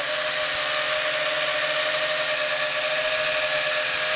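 A Potensic D58 sub-250g GPS camera drone hovers and spins in place, giving a steady, high-pitched buzzing whine that stays loud and unbroken throughout, with no talking.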